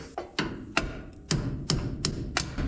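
A hammer taps out a cotter pin in a garage: about seven sharp, close metallic strikes at an uneven pace, each with a short ring and no talking.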